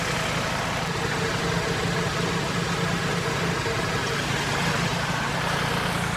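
A Kubota tractor engine runs under load as it presses down while digging into very dry ground. Its loud, steady low rumble holds without a break throughout, and no one speaks.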